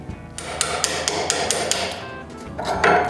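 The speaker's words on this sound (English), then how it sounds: "But I need to carve a square hole so the carriage bolt can be seated in the frame." Mallet or hammer blows on a chisel carving a square hole into a wooden bandsaw frame, seating a carriage bolt: a series of sharp, fairly close wooden knocks at a steady rhythm, heard alone over a faint workshop background.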